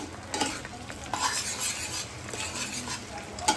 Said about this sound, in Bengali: ডিমটা দেওয়ার পর আমি এটাকে ভুজিয়ার মতো করে নিচ্ছি।